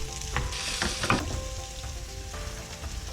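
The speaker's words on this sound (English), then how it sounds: "Then place the onions into the remainder of the oil and cook slowly on a low to medium heat." Onions frying slowly in leftover bacon oil over low to medium heat, giving a steady close sizzle with soft crackles and light stirring, with no voices.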